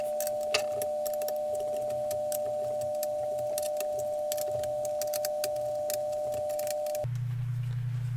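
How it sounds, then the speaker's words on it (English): Small metallic clicks and clinks from screws being worked loose on a C64 Ultimate keyboard, close and light, scattered over a steady electrical hum that drops to a lower drone near the end. "and now I can unscrew all of them"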